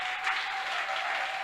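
A church congregation applauding during a French-language service, steady dense clapping throughout at even loudness.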